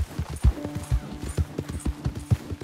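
Horse hooves clip-clopping at a steady trot in the video game Red Dead Redemption 2, a regular rhythmic series of thuds, loud and close, with a faint tonal game sound underneath.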